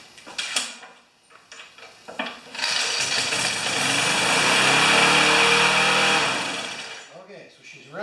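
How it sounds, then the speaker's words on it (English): A Briggs & Stratton Classic small engine, just after carburetor work, revs high in a loud, steady buzzing roar lasting about four seconds, with people talking before and after. "she's revving high"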